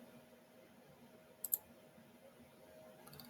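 Two sharp computer mouse clicks in quick succession at a desk, quiet and close, with a faint third tap near the end against a low steady background hum.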